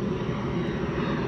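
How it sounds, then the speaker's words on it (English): Loud, steady roar of a large airplane flying overhead, a continuous engine drone with no talk over it. "that big ass airplane, bro, get the fuck out my video"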